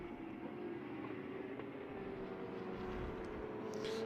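A GTE race car, the number 20 entry, circulating in qualifying at Portimão, a steady distant engine drone whose pitch rises slowly with a faint whine toward the end.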